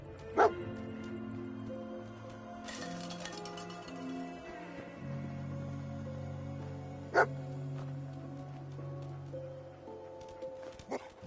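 Dogmeat, the dog companion in the Fallout video game, gives a few short sharp barks and yips between quieter whimpers, set over low game ambience.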